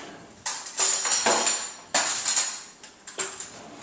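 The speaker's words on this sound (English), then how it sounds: "and mix this up with a fork" A fork clinks and scrapes briskly against a bowl while beating raw eggs, in quick clattering bursts with short pauses between them, close and fairly loud, with no talking.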